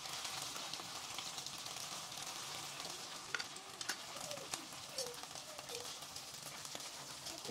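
Sauce and corned beef stir-fried in a pan for spaghetti bolognese: a quiet, steady sizzle with soft scraping and stirring clicks, faint and continuous without talk.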